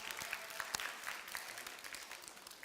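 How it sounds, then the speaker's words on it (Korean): Applause from a church youth group congregation after a performance, a steady crowd clapping with dense overlapping claps throughout, moderately loud and with no talking. "다시 한번 박수"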